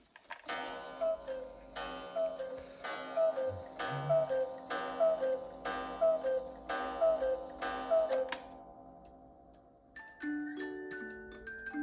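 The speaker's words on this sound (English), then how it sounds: "That's our Cuckoo clock from Triberg." A Black Forest cuckoo clock from Triberg strikes a series of evenly spaced bright ringing tones, about one each second, then shifts into a short tinkling melody, all fairly close with no talking.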